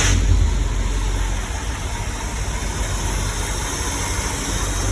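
A 1974 Scout SS2 clone's engine runs smoothly at a steady, loud, close low rumble, with a slightly stronger burst at the start before settling into an even idle.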